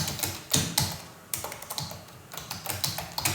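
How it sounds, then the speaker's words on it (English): Rapid, irregular clicking of a computer keyboard as text is typed, with close bursts of keystrokes separated by brief pauses and no talking. "Then I will start typing the text."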